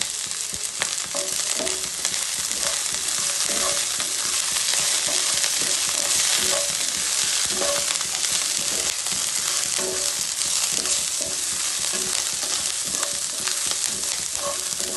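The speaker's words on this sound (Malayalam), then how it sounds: "ഇതിലേക്ക് ഞാൻ കറിവേപ്പ് ഇടുന്നുണ്ട്." Curry leaves frying in hot oil for a fish curry produce a loud, continuous crackling sizzle with small pops throughout, close and steady with no talk over it.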